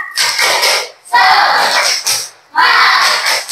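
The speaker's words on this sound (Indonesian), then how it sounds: "Tepuk semangat." A school class of children chants a rhythmic spirit cheer in unison, three loud, sustained group bursts separated by short pauses, close and energetic.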